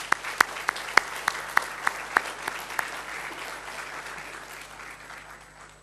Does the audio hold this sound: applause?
yes